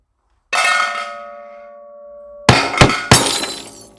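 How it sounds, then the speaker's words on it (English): Stones thrown into a pan make a sudden ringing clang that hangs and fades, then several sharp smashing crashes that sound like breaking glass, loud and close. "The noise will sound like broken glass."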